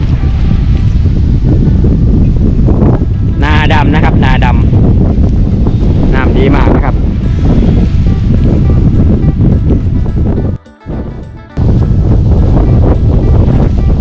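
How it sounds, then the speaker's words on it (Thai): Strong wind blows across an open dry-season rice paddy, a loud, continuous rumble buffeting the microphone while someone talks over it. "ลมแรงมากนะครับ"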